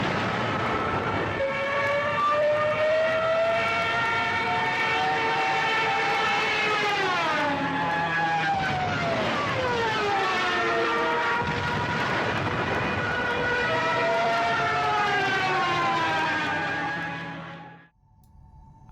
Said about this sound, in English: The sound of a diving German plane would terrify the British